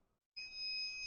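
A high electronic beep from a kitchen timer for oven-roasted sweet potatoes starts abruptly after a brief silence and holds as a steady, continuous tone nearby.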